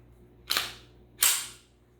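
Two sharp, dry clicks from the trigger of a Canik TP9 pistol, spaced about three-quarters of a second apart, each with a short fading tail, close up and with no talking.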